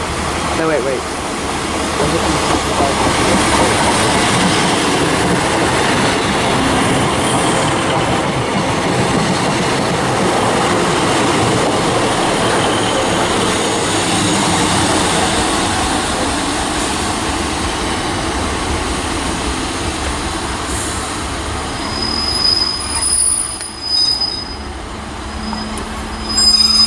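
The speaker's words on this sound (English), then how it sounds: "we've got a double Southwest Trains unit" A double-unit South Western Trains passenger train rumbles past close by at Trowbridge for the whole stretch, a steady broadband roar with faint clatter and a brief high whine near the end.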